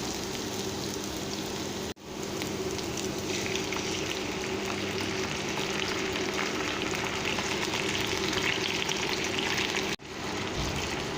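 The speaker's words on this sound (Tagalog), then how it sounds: "Haluin lang po natin siya hanggang sa maluto po yung century tuna." Century Tuna stir-frying with onions in a pan for pancit canton, a steady close sizzle and crackle of frying running throughout, broken by two brief dropouts, with no talking.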